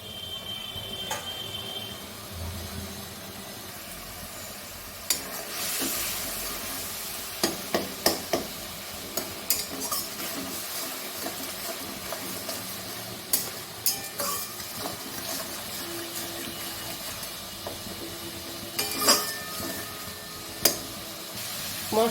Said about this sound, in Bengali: ততক্ষণ মশলাটা কষে নেব।